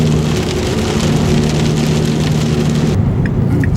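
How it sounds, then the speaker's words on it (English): Heavy rain pours on a moving car, a dense and loud steady hiss of drops drumming the body with a low engine hum underneath, then easing slightly near the end. "And it's just pouring down rain."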